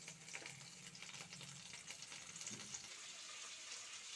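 Fish frying in a pan for Bengali fish kalia, a steady bright sizzle of hot oil running continuously throughout, close and moderately loud, with a few faint stirring or clattering touches and no talking.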